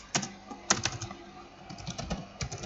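Rapid, uneven keystrokes on a computer keyboard while code is entered for a JavaScript lesson, clicks close and crisp with a few louder taps, no talking.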